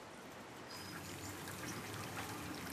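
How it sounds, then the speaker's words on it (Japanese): A nearby river murmurs beside an open-air hot spring bath facing a bamboo grove, a faint, steady wash of flowing water with soft trickling detail and no voices. "近くを流れる川のせせらぎです。"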